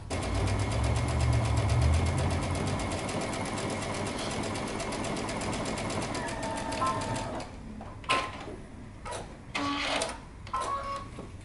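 A sewing machine stitches the side seam of a holiday dress, a steady rapid mechanical whir running loud and continuous for several seconds before breaking into short stops and restarts.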